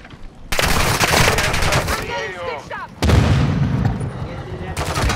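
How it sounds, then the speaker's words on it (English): Airstrike explosions and gunfire in a multiplayer shooter game, loud repeated bursts in two heavy waves with crackling debris, and players talking over them. "I got an airstrike"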